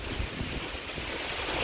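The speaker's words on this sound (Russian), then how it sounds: "С моря дует легкий бриз." A light sea breeze blows over gentle waves on a beach at a condo in Pattaya, making a soft, continuous wash of wind and surf with no one talking.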